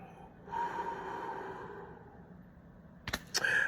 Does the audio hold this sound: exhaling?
yes